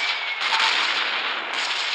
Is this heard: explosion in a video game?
yes